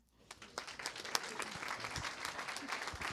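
An audience at a regular board meeting breaks into applause, a steady wash of many hands clapping at moderate distance with some voices mixed in.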